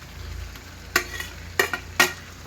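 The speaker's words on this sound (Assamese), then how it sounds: "5 মিনিটমান ভাজি ল'ম, ঢাকোন নিদিয়াকৈ" Local village chicken leg pieces frying over high heat in an uncovered pan: a steady low sizzle with three short sharp scrapes of a spatula stirring the meat, close and alone.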